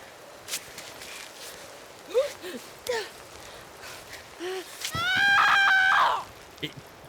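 A female climber character in Cairn lets out a strained, rising scream after short gasps and grunts while climbing in the rain, close and fairly loud against a quiet background.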